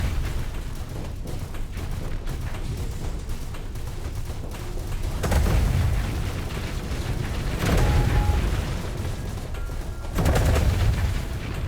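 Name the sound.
point defense weapons firing in Starsector video game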